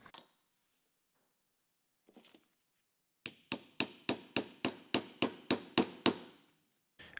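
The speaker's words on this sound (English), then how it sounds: "I tend to just tap them in with a socket or anything that's really like the right size that's not going to catch on the end of the shafts" A socket taps new throttle-shaft bearings into a Weber DCOE carburettor: a couple of faint knocks, then about eleven sharp, evenly spaced metallic taps, close and fairly loud, with no talking.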